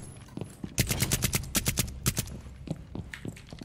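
Rapid bursts of gunfire in Rainbow Six Siege crack in uneven volleys, loud and close, with a few scattered single shots near the end.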